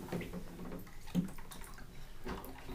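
Water splashes and sloshes in a bathtub as a child plays, soft irregular splashing close by with small drips and knocks of plastic cups, no talk.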